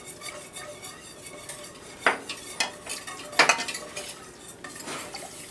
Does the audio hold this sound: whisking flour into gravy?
yes